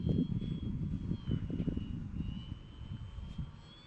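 A model airplane drones overhead on a windy day, its engine a steady, moderately distant whine with wind buffeting the microphone in low bursts.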